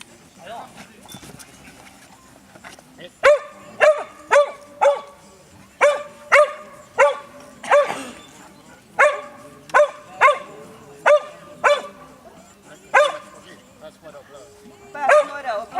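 An 11-year-old working dog barks during a dog training demonstration, giving a long series of sharp, loud barks at a steady rhythm, close by, while people talk quietly underneath.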